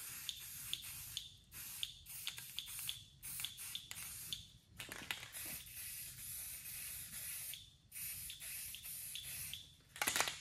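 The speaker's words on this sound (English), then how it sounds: "with this kind of stuff, you just want to mist it" Spray paint hisses in short repeated bursts, lightly misted onto a custom sign for a fog effect, each spurt a close, steady airy spray separated by brief gaps.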